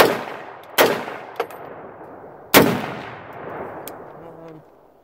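A PSA Gen 3 AR-10 rifle fires .308 rounds outdoors: two loud, sharp shots about two seconds apart, each followed by a rolling echo, with a fainter distant crack and clinks between them.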